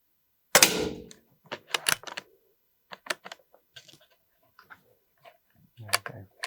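A Remington Spirit X bullpup air rifle fires on an outdoor range: a sharp pop followed by several fainter, irregular clicks and cracks with quiet gaps between.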